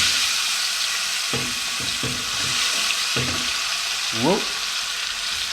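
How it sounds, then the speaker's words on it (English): Onions drop into hot lamb tallow and sizzle in a steady, bright hiss, with a few soft clatters and a short exclamation from a man near the end. "into our tallow I am going to put, first of all, the onions"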